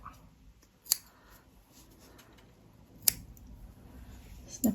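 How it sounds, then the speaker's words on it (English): Scissors snip through yarn ends on a super chunky crocheted bonnet, two crisp, quiet cuts about two seconds apart, close by in an otherwise hushed room, with a third snip starting at the very end. "And give those 2 a snip."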